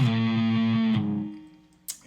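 A distorted electric guitar plays a main riff: a thick, sustained low chord rings out loud and close, is re-struck once, then decays away before a short pick scrape at the end.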